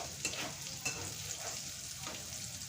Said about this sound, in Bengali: দিচ্ছি হলুদ ভালো করে নেড়ে চেড়ে